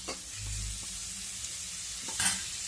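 Pork intestine adobo sizzles steadily in its own rendered fat after soy sauce and vinegar go in, with a few soft utensil scrapes and a brief louder crackle near the end; no one speaks.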